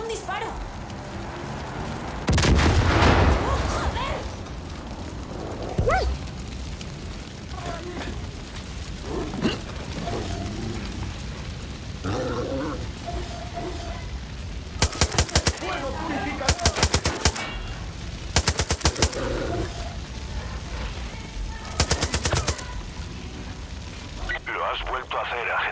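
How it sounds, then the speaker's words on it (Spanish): Gunfire in the video game Far Cry 5: a loud blast early on, then several sharp bursts of rapid automatic fire later, amid game noise and voices talking. "Eso parecía un disparo."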